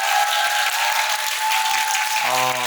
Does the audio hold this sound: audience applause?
yes